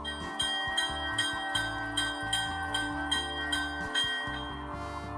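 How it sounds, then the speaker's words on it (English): Sound-equipped Rapido Alco PA-1 model train locomotive ringing its bell, a steady run of evenly spaced metallic clangs over a low, humming diesel engine rumble. "Here's the bell"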